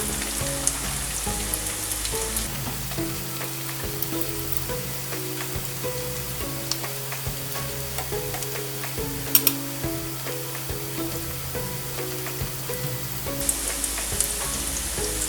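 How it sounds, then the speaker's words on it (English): Koftas frying in hot oil over medium heat, a steady dense sizzle and crackle with scattered pops, close and continuous, with faint background music underneath. "You can keep the heat on medium while frying the koftas."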